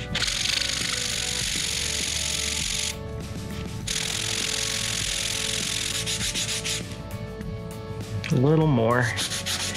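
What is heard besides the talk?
sanding wooden pegs with 150 grit sandpaper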